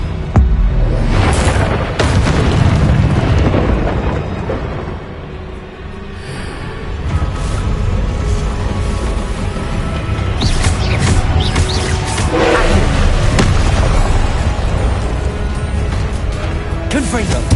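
Confringo blasting spells explode repeatedly during a Hogwarts Legacy duel, dense booming blasts and crashes layered continuously and loudly alongside other spell effects, with voices calling out over the din.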